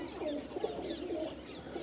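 Pigeons coo softly in short repeated throaty calls, fairly faint and close, over a steady low background hum with no talk.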